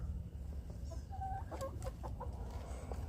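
Backyard chickens give a few soft, short clucks in the middle of a quiet outdoor ambience, faint and moderately distant, with no talking.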